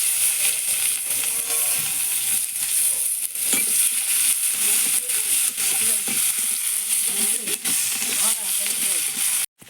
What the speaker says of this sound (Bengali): এই যে মাছ ভাজার তেল আছে আমি এতে একটা তেজপাতা দিয়ে দিচ্ছি দিয়ে এবার পেঁয়াজগুলো দিয়ে দেবো